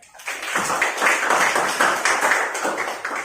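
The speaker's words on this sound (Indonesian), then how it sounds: "tepuk tangan untuk saya." A classroom crowd claps together in a steady burst of applause that holds at even loudness for a few seconds, with no voices over it.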